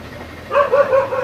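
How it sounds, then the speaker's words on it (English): Several dogs bark at a middle distance, a few rough barks starting about midway and repeating in an uneven run over a steady outdoor background hum. "as the dogs are barking right now"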